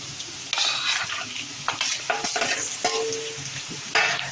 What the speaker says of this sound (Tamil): சேர்த்துட்டு இந்த மாதிரி மெல்ல கிளறி விட்டுக்கோங்க.